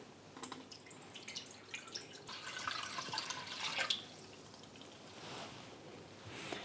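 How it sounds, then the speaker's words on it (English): Eight cups of water are poured into a pressure cooker holding a whole chicken for Vietnamese chicken congee, a soft splashing trickle that swells to a fuller gush midway, then fades to drips. "Adding 8 cups of water."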